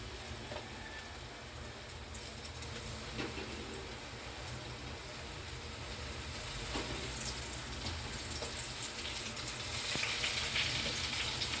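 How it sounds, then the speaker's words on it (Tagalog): Chicken sizzles and crackles steadily in hot oil, a continuous close frying hiss with scattered pops and no voices. "Prito na natin ating manok"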